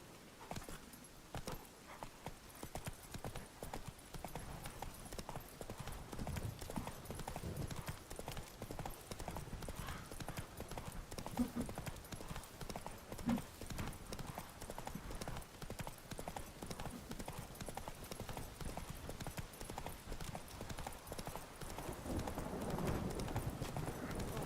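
The horse Roach walking in The Witcher 3, hooves clip-clopping in a steady rhythm over quiet ambient game sound, moderately close and faint throughout.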